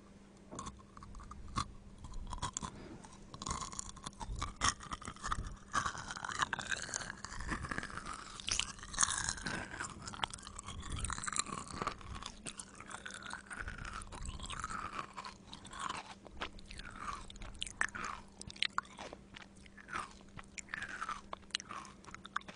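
Kohakuto, Japanese crystal jelly candy, being bitten and chewed up close for ASMR, with repeated crisp crunches and sticky, wet mastication sounds in an irregular rhythm over a quiet background.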